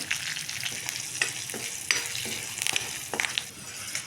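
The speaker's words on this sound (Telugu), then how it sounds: "మనం పచ్చిమిర్చి సన్నగా చీల్చినవి ఉన్నాయి కదా అవి ఇప్పుడు వేసేసుకున్నాం కొంచెం కరివేపాకు" Slit green chillies and curry leaves fry in hot oil, a close, busy sizzle with repeated sharp crackles and spatters, plus a scrape or two of a stirring spoon.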